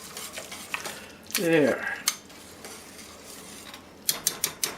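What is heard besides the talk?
fast stirring of beef venison stew gravy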